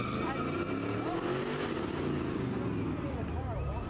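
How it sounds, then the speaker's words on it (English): Several car engines rev loudly during a street protest in Charlotte, where a Dodge Charger is doing donuts, with a roaring, shifting engine drone and tire noise heard nearby throughout. "people are revving their engines, and we just saw those donuts being made. I believe it was a Charger, Fred."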